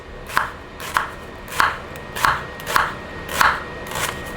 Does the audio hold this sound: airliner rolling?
no